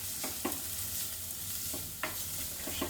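Onions sizzle in a pan while a utensil stirs them, producing several short scraping strokes over a continuous soft frying hiss.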